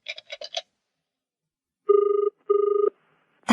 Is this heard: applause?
no